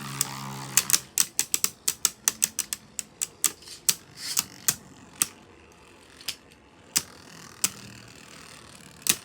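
Beyblade Burst spinning tops, Blast Jinnius among them, launched into a stadium and clashing, making a rapid run of sharp, close plastic clicks and clacks that thin out to sparse hits over a faint spinning whir.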